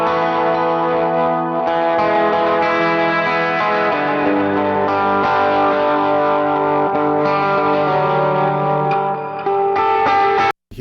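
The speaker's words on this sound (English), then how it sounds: "Here's the sound of the Gretsch from the other day." A Gretsch electric guitar plays back from a recording, loud and continuous for about ten seconds. Thick distortion, chorus and echo give it sustained, ringing chords that cut off abruptly at the end.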